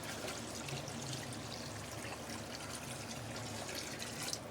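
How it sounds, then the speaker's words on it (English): Water poured into a cooking pan of chicken with minced garlic, giving a steady, even pouring wash with a faint sizzle that holds at the same level throughout, close and alone. "So now we're going to add in some water."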